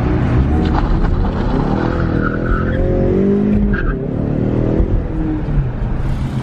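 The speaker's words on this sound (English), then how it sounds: "the car runs now, got a new battery in it" A twin-turbo Ford Mustang runs after a new battery is fitted, its engine a steady rumble through a parking lot, with a rising whine like revving midway and no talk.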